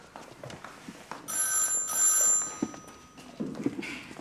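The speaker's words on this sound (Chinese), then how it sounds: "妈，我的电话。" A telephone rings in a home in the morning, one long electronic trill lasting over a second amid faint household movement and footsteps, then fading into quieter room sounds.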